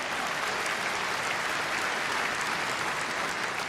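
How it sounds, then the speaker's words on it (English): Steady, dense applause from a large conference audience fills the whole stretch, loud and even without pause. "Please put your hands together and thank Martin Green"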